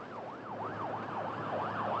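An ambulance siren wails in a steady, repeating up-and-down sweep, moderately loud and continuous as the emergency vehicle arrives at an incident scene.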